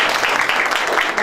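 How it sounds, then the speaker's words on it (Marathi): Steady, dense audience applause at a farmers' prize ceremony for a bullock-pair decoration competition, a continuous wash of many hands clapping at an even level for about a second. "एकदा टाळ्या होऊन जाऊ द्या"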